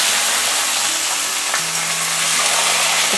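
Vegetables for shukto go into hot oil and fry with a loud, dense, continuous sizzle close up, a faint tone drifting underneath.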